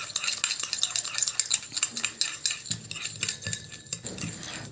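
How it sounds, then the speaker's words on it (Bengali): A whisk or spoon clatters rapidly against a bowl as sugar is beaten into mustard oil, a continuous close scraping and tapping rhythm. "যতক্ষণ না আমার চিনিটা গলে যাবে, ততক্ষণ কিন্তু ভালো করে এই চিনিটা সর্ষের তেলের সঙ্গে কিন্তু ফেটিয়ে নিতে"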